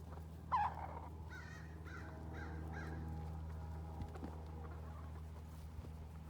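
A bantam rooster and large laying hens give a few quiet, short clucks early on, then settle into faint murmuring calls over a low background hum outdoors.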